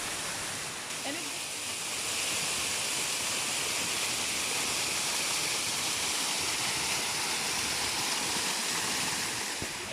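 Steady rushing water from a waterfall in Tetebatu, Lombok, Indonesia, a broad continuous roar that holds evenly throughout, with faint voices in the background.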